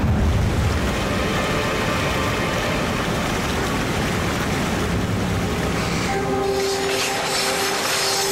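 A running train gives a loud, continuous rumble and rattle of wagons on the track, steady throughout, with a higher tonal whine coming in near the end.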